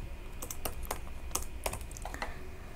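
Keys on a computer keyboard are struck in quick irregular bursts of sharp clicks, close up, while entering registration details on a PHP and MySQL voting system page, with no talking.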